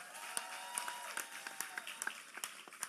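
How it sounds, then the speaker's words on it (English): Graduates at a skill center commencement clap for themselves, scattered, faint applause with individual sharp claps standing out over a thin crowd. "Give yourselves a round of applause."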